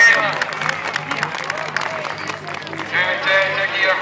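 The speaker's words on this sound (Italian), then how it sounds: "questa merito già un applauso solo perché è salita sopra" Outdoor crowd at the Palio dei Mus race in Cosniga applauds and cheers a female jockey who has just mounted, a steady wash of clapping with scattered voices calling over it throughout.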